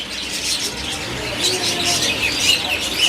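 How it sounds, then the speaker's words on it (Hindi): Common cockatiels chirp at a bird market in Faisalabad, Pakistan, a dense chorus of bright, overlapping calls close by with steady background chatter. "ये कॉमन कॉकटेल है, ये 5000 रुपये का पेयर है।"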